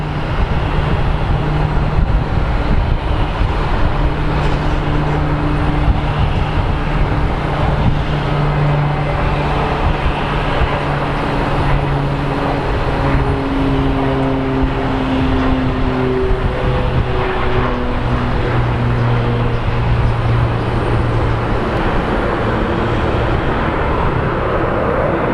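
Airliners taxi at Phoenix Sky Harbor airport, a loud, continuous jet-engine drone with shifting whining tones that slowly rise and fall over a constant rumble.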